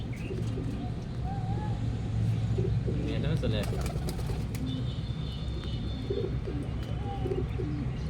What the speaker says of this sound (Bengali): এই যে দেখুন আমাদের সব কবুতর পায়রা